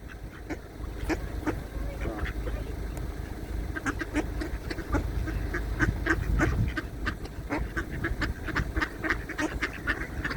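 Ducks at a park in Ireland quack repeatedly in scattered bursts over a steady outdoor background, moderately close, with some faint voices mixed in.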